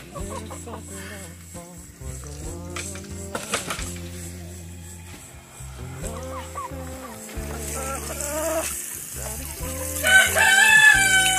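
A chicken being given a bath clucks and crows close by among clattering, water-like background noise, getting louder and busier toward the end.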